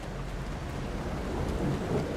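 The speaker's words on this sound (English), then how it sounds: "Oh, look at the rain." Rain and rumbling thunder in the video game The Alters, a dense steady wash of rainfall with low rolling rumble underneath, continuous and moderately loud throughout.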